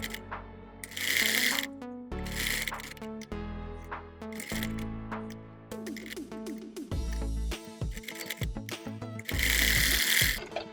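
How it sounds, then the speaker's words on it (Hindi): A sewing machine stitches a seam alongside tape on a baby boy's shirt sleeve, running in several loud bursts with pauses and mechanical clicks between them. "यहाँ पे बिल्कुल चेपी के साथ साथ हम सिलाई लगा लेंगे"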